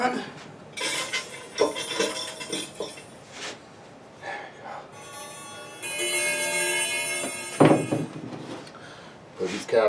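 Metal chimes for a wall-hanging grandfather clock clink, clatter and ring as they are handled and fitted, in irregular bursts with one sustained ringing tone, close by.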